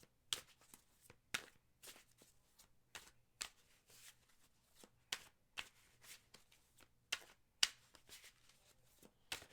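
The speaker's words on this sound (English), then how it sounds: "I'm going to go ahead and shuffle the cards." Tarot cards shuffled by hand, with a run of crisp riffles and slaps in an irregular rhythm, close and fairly quiet, and no talking.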